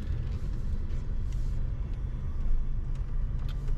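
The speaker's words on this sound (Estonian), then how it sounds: "mulle isegi tehakse vist värav lahti või tuleb kuskilt auto" A car approaches along a street on a rainy night, heard from inside a taxi as a steady low engine and road rumble with faint tyre hiss building slightly toward the end. No speech.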